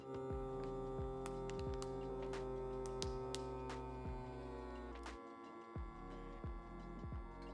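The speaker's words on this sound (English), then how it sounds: "Place bag in vacuum and let it do its thing." A kitchen vacuum sealer pulls air from a bag of freshly ground lamb, giving a quiet, steady electric hum with faint regular ticking clicks and a brief drop as it seals.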